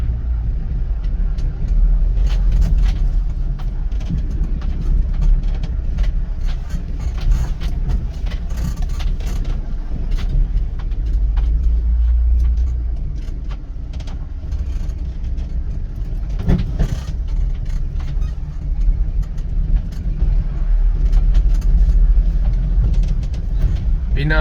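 A Force Cruiser 2023 drives off-road, giving a continuous low engine drone and rumbling chassis noise with occasional knocks and rattles over uneven ground; a voice talks faintly at times.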